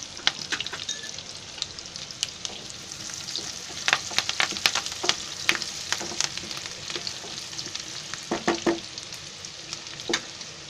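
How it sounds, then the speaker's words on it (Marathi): Onion and curry leaves fry in a pan with a crackling sizzle, broken by sharp pops and stirring scrapes, close and with no one talking. "मी कांदा टाकते, थोडासा फ्राय करायला ठेवला आहे"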